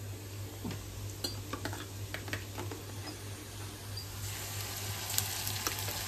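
Onion frying with masala in a pan for a village-style mutton rassa, a steady sizzle broken by scattered scrapes and clinks of stirring, close and fairly quiet, with no voices.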